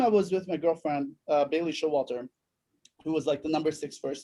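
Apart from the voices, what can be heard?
No everyday noises stand out.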